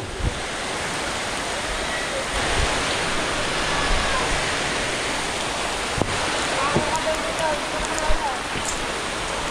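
Floodwater flowing continuously through a flooded house, a steady, loud broadband rush with small splashes and occasional faint voices underneath.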